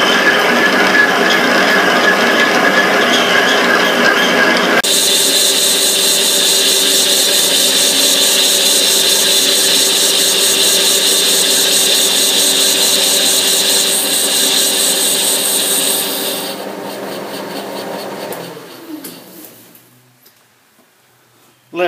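A machine shop tool running at 300 rpm with a slow feed, a loud steady whirring, grinding drone that holds for about fifteen seconds, then fades and winds down to near silence.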